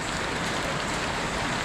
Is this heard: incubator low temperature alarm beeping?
no